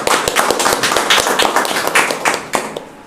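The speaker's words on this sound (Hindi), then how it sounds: "तो परमेश्वर के लिए हम जोरदार तालियों से स्वागत करते हैं।" Church congregation giving loud applause during a midweek service, sharp irregular claps close by, crisp and percussive throughout.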